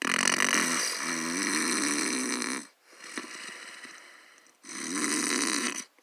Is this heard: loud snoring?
yes